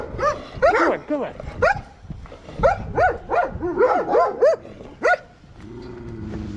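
Street dogs in Turkey bark and yelp close by in rapid, overlapping bursts, several voices at once, before the barking stops and a low steady hum remains.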